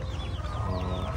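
Hens cluck and chatter continuously in a backyard flock with one rooster for about ten hens, several overlapping bird calls close by with no talking.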